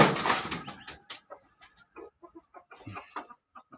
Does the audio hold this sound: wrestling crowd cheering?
no